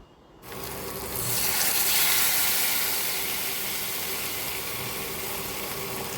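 Water is poured into a pan of fried tomato and potato for a hilsa fish curry. After a short quiet start it becomes a loud, steady rushing gush close by that holds to the end.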